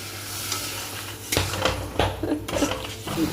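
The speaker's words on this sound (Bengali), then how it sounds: "এরপর একটু জল দিয়ে নাড়াচড়া করি" Spices with a little water being stirred in a pan for chana dal, with a spoon scraping and clinking against the metal in irregular close strokes over a faint sizzle.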